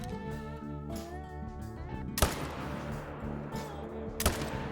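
Two sharp .300 rifle shots ring out about two seconds apart while hunting in theHunter: Call of the Wild, each a loud crack standing out over steady in-game ambience and music.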